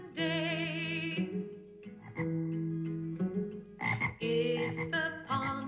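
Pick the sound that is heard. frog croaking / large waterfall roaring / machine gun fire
frog croaking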